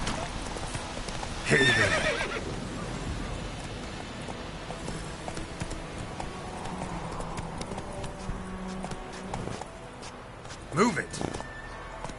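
Roach the horse's hooves clip-clop steadily in The Witcher 3 on PS4, with a whinny near the start and another snort or neigh near the end, while a voice speaks briefly over it.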